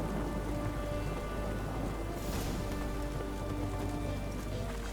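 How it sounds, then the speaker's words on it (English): Steady heavy rainfall in The Witcher 3: Hearts of Stone, an even, dense patter on surfaces that fills the scene without pause, with a low rumbling undertone. "It's raining, of course it's going to be."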